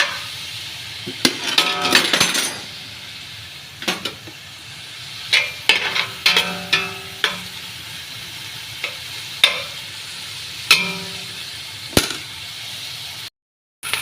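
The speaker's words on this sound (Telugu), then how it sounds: "ఇవైతే ఉల్లిపాయలు ఇవన్నీ అయితే వేగుతాయండి" Onions frying in a pot with spices, a steady sizzle broken by repeated sharp clinks and scrapes of a spoon stirring against the metal, close and clear with no talking.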